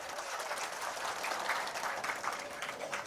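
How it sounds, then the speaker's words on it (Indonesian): Audience applause for Ibu Evi Krisnawati, head of Farkes, at an Indonesian labor gathering, a fairly quiet, steady patter of many hands clapping with no talk over it. "Bu Evi, boleh tepuk tangan untuk beliau"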